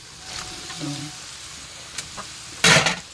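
Eggplant being fried in a pan at home, giving a soft steady sizzle with a sharp loud hiss burst near the end as more goes in or is stirred.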